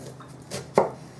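A knife chops through onions on a board, one sharp, close thud standing out over faint background hiss and a few lighter taps.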